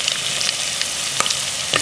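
Curry leaves go into hot oil with green chillies for an oyster roast masala, a strong continuous hiss of frying with a couple of faint clicks, close and unvoiced.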